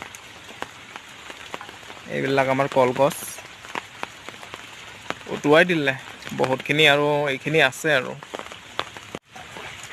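Rain falling by a flooded river in Assam, a steady patter that continues throughout while someone talks nearby in several bursts.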